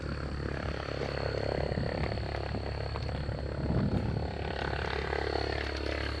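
Helicopter on a sightseeing tour over Boston, its engine and rotor making a steady, loud, broadband drone with a constant low thrum and a sustained high whine throughout.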